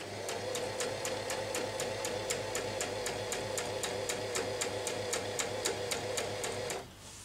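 Sewing machine stitching the round neckline of a chiffon garment, a steady fast run of evenly spaced needle strokes with a constant motor hum, close and alone, stopping abruptly near the end.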